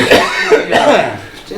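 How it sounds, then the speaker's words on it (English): A person coughs in a short burst of several rough, close coughs with throat-clearing breaths, over a busy background of talk and room noise. "I told you I was going to be coughing."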